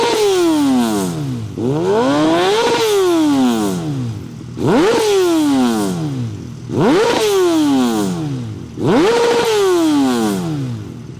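A stretched Kawasaki ZX10R inline-four motorcycle revs hard, five long high-pitched pulls that rise sharply then wind down, loud and close with no talking.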